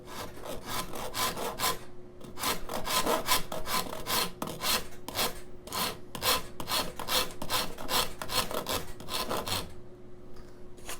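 A coarse rasp files the arm bevel into the wooden body of a thin-line electric guitar, giving steady back-and-forth scraping strokes in a quick, close rhythm with only brief pauses.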